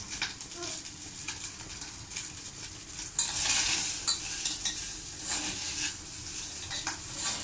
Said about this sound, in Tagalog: si Precious nagsasangag ng kanin